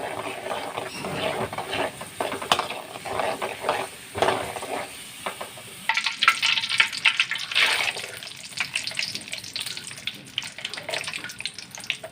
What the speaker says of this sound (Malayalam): പറങ്ങാണ്ടിയൊക്കെ ഒന്ന് വറുത്തെടുക്കാം മുന്തിരി ഒന്ന് വറുത്തെടുക്കാം